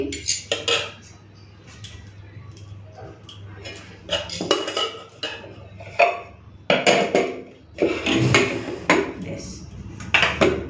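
Dal being ladled onto a plate of rice for a Bengali home meal, with repeated short clinks and scrapes of metal against dishes over a low steady hum, some quiet talking in between.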